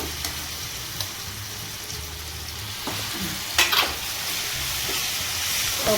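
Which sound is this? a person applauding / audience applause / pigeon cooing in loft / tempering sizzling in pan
tempering sizzling in pan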